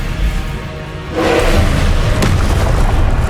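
A Confringo fire spell explodes in Hogwarts Legacy, a dull booming blast swelling after a quiet moment and rumbling on, loud and close, with no talk.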